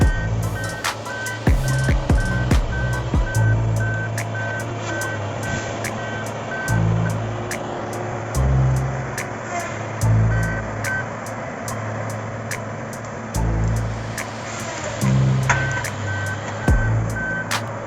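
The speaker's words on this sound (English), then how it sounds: "With a powerful head and strong hydraulics, it slices through them cleanly, then stacks them neatly for processing." A John Deere forestry harvester grips, cuts and stacks a cluster of trees: a heavy diesel engine rumbles steadily, with repeated sharp cracks and thumps, a recurring electronic beep and hydraulic whine across the whole stretch.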